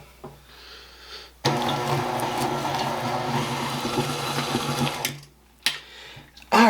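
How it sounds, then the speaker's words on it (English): An electric mixer churns a fruitcake batter studded with fruit and nuts, a steady loud whirring burst of about four seconds that starts abruptly and cuts off, with quiet pauses before and after. "We're just going to add this to our mixer."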